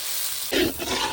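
Onions tossed into hot oil with fennel, green chillies and curry leaves for a village-style rabbit curry, a steady hiss that swells abruptly into a louder, brief surge of sizzling.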